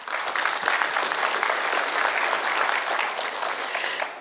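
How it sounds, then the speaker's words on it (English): Sustained applause from an audience after an academic talk, a dense, steady wash of clapping at close-to-moderate distance that holds evenly throughout. "Round of applause."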